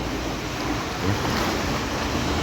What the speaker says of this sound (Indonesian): Ombaknya gede juga